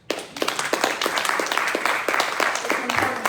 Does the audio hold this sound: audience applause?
yes